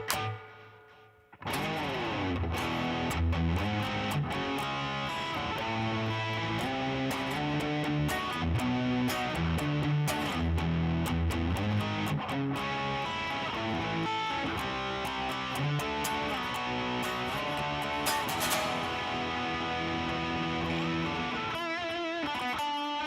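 A loud Fender Jaguar electric guitar plays through a Vermin distortion pedal, chugging chords and riffs in a dense, saturated tone that runs continuously after a brief quiet start.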